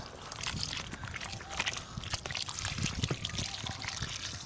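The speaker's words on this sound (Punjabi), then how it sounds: "ਪਾਣੀ ਮਾਸ਼ਾਅੱਲਾ ਅਸੀਂ ਇਹਦੇ ਸ਼ਾਮਲ ਕਰ ਰਹੇ ਹਾਂ" Water poured into a container holding a herbal ingredient for a home remedy, a steady trickling and splashing stream that runs throughout at moderate level, with occasional clinks.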